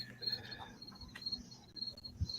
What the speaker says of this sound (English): Are you listening to the crickets?